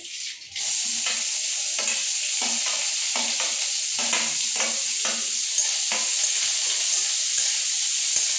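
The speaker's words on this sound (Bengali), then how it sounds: "তারপরে পেঁয়াজ ঢেলে দিবে, পেঁয়াজ।" Onions poured into hot oil with curry leaves and grains, a constant loud sizzle with repeated scraping stirs of a spatula in the pan.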